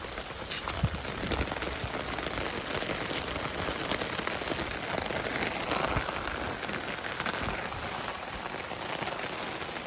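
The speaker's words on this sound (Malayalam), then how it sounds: "ഇന്ന് രാവിലെ എണീച്ച് പിന്നെ നല്ല മഴയാട്ടോ." Steady heavy rain patters densely on surfaces throughout, a continuous loud hiss with no voices.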